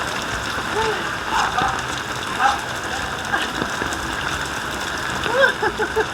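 Heavy rain pours steadily onto surfaces, a dense continuous hiss with scattered drops, while faint voices and talk carry beneath it throughout.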